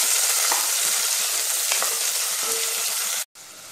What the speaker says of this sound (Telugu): సో నెక్స్ట్ దానిలో ఆనియన్స్ యాడ్ చేస్తున్నాను, అలాగే గ్రీన్ చిల్లీ. సో ఆనియన్స్ కూడా బాగా ఫ్రై అవ్వాలి.